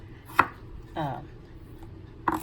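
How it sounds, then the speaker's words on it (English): Knife cutting potatoes into chunks, with two sharp chops against a board about two seconds apart and a short scraping sound between them, close and clear. "you cut your potatoes however you like"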